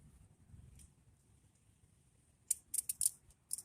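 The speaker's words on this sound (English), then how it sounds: "We'll try these out and see if they actually work for the cords that I'm cutting." Cutters snip through cords while scrapping. A quiet stretch gives way to several sharp, close cuts in quick succession near the end.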